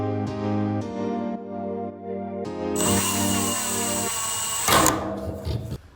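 A power drill drives screws into drywall studs inside a shipping container being converted into a home. The motor whines in several short bursts, then a higher, louder run and a clattering finish, close up and with no voices.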